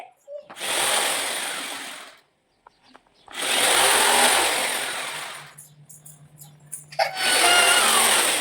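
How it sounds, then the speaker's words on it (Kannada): An electric drilling machine bores into a house wall for nails in three long, loud whirring bursts separated by short quiet gaps, with a voice faintly heard between them. "ಡ್ರಿಲ್ಲಿಂಗ್ ಮಿಷಿನ್ ತೊಗೊಂಬಂದು ಸಂತು ಮಳೆ ಹೊಡಿಯೋಕ್ಕೆ ಹೆಲ್ಪ್ ಮಾಡ್ತಾಯಿದ್ದ"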